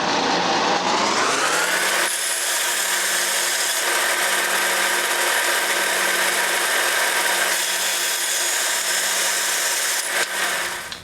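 A power tool saws steadily through a wooden pen blank for woodturning, cutting it into two pieces; a loud, continuous whine holds from start to finish with no talking.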